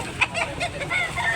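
A derby-size gamefowl rooster clucks close up in a short run of quick, throaty notes, loud and with no talk over it.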